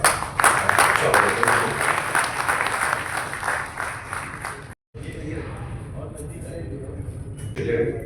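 Audience applause at a public event, a dense wash of clapping that tapers and briefly drops out, then resumes more faintly with voices over it.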